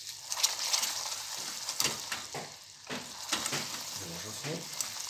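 A crystallized honey mixture for nougat is stirred in a pan, with soft scraping and sloshing strokes and a faint sizzle repeating at an uneven rhythm, close up and moderately quiet.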